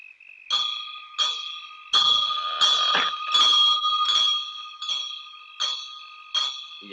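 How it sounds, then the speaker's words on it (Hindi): Bells are struck about ten times in a steady rhythm. Each bright, metallic clang rings out and overlaps the next, close and loud with no voices. "तुम दोनों घंटी बजाते रहना।"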